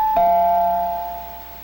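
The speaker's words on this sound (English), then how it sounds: "Oh, it's the doorbell." A single doorbell chime rings out clearly, its tone lingering and slowly fading away with nothing else around it.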